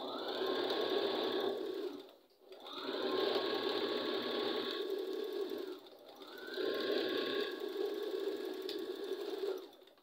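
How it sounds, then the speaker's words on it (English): A sewing machine stitches a fabric bonnet in three long bursts separated by brief pauses, a steady mechanical whir with no talking. "We'll put our sewing machine aside. Don't forget to turn it off."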